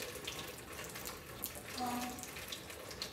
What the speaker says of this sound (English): we gotta drain the fuel